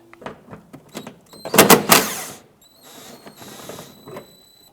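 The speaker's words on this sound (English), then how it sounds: "Using a 10mm socket, remove this bolt" A ratchet and 10mm socket work a bolt loose on a 2008-2013 Nissan Rogue radiator support bracket, giving quick clicking ratchet strokes and metallic scrapes up close, with a brief louder burst in the middle.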